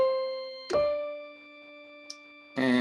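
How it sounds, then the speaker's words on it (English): A piano sounding a five-finger pattern: a few clean, ringing notes, each struck and held so it sustains and decays, played slowly and alone in a quiet room. "the 5-finger pattern will sound like this"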